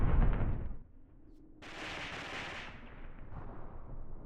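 Artillery fire falling on anti-tank gun positions in the video game Mius Front: a heavy booming blast that quickly fades, then a sharp crackling burst of explosion debris trailing off, no talk.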